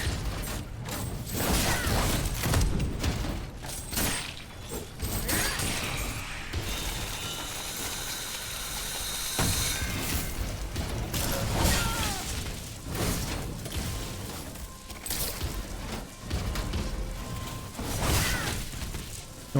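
Mechanical gun spider enemy in the game Steelrising, a steady busy clatter of whirring gears, ratcheting and creaking metal with occasional whooshes and booms, loud and continuous throughout.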